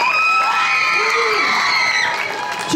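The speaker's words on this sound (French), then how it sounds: "On les applaudit bien fort." An audience at a cosplay contest in a convention hall cheers loudly, with high whoops and shouts over a dense, steady crowd roar that eases slightly toward the end.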